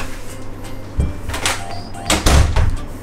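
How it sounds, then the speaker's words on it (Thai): A hotel room door at Rodina Beach Hotel swings shut with a couple of soft thuds and a latch click, fairly near, amid faint room noise and light movement, with no one speaking. "มาปิดก่อนปิดประตูก่อนค่ะ"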